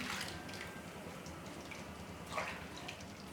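A cup of drained black masoor dal goes into one and a half jugs of boiling water, heard as a steady bubbling, watery hiss with a soft splash midway and no talking.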